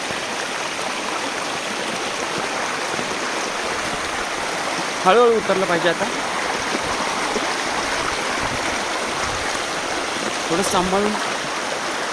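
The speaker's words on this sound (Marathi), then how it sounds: "खळखळ वाहणारं पाणी बघा." Steady rushing water of a stream near a waterfall in the rainy season runs throughout, with a person speaking briefly over it twice.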